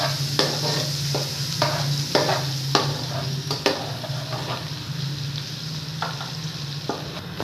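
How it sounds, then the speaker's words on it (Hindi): Ginger garlic paste sizzles steadily in a pan while a spoon stirs it with repeated scraping taps, close and alone. "ये देखो इसे अच्छी तरह हम भून लेंगे।"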